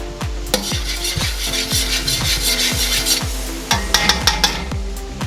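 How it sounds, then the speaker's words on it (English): Shrimp scampi is stirred in a pan on a Big Green Egg ceramic grill, with a run of rhythmic scraping and rubbing strokes close by over a faint sizzle and no talking. "And then I'm going to give it one stir"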